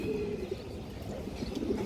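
Small flying pigeons of the running breed coo softly in a loft, a steady low murmuring that lasts throughout, with faint chirps above it.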